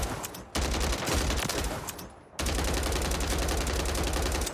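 Sustained rapid gunfire in Call of Duty on Rebirth Island, a loud continuous burst of automatic shots from a Striker loadout aimed at targets, pausing briefly before another long burst resumes.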